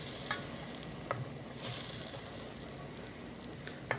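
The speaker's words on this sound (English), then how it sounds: "Stir in your butter." Butter melts and sizzles in a hot pan on low heat while being stirred, a soft steady frying hiss with a few light scrapes and clicks of a utensil, close but quiet, with no talking.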